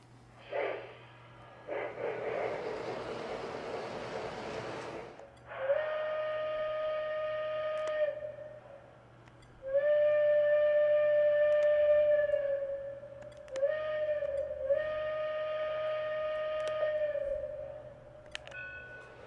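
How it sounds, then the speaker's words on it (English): A toy train whistle blows several steady tonal blasts of a few seconds each, with breathy hissing bursts before and between them. "The bell and the whistle sound pretty decent."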